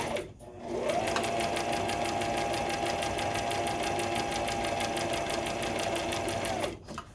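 Sewing machine stitching fabric ties onto the body of a mask, running in one steady, rapid, buzzing stretch of several seconds, starting and stopping with brief pauses at each end.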